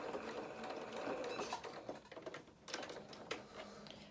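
Sewing machine running in a steady whir as it stitches a doll skirt seam with a 1 cm allowance, reversing briefly at the end; close and continuous with short pauses and clicks.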